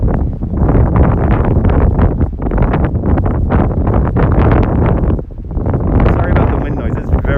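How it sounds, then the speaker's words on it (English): Gusty wind blows on the west side along the Hudson River in New York City at sunset, rushing across the microphone in loud surges with a brief lull, mixed with someone talking. "Windy out here right now."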